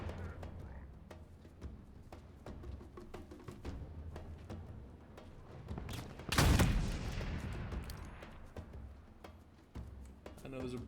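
A sniper rifle shot in Halo Infinite, one loud close blast with a long decaying tail amid lighter game noises, while a person talks before and after it.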